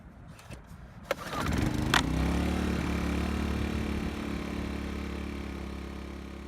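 A 1,000-surge-watt gas-powered inverter generator (GEN1000I) with a 1.3 horsepower engine coughs to life after a recoil-cord pull, then settles into a steady, loud, close running drone.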